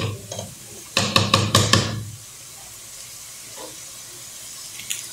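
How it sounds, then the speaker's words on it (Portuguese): Tripe for dobradinha cooks in a pan, heard as a quick run of five or six close metallic knocks from stirring, then a faint hiss and a few soft clinks. "E vamos deixando refogar aqui."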